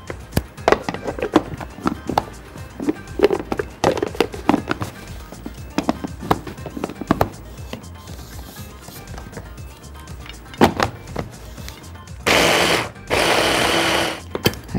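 A blender whirs in two loud sustained bursts near the end, mixing eggplant pickle stuffing with olive oil, after a stretch of clattering kitchen noise.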